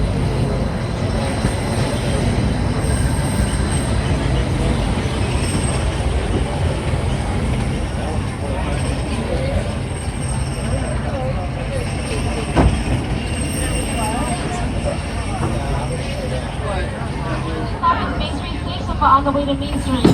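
The Disneyland Railroad train rolls along its rails with a steady, loud rumble and rattle of wheels and cars, with occasional clacks and squeals, while voices speak over the ride throughout.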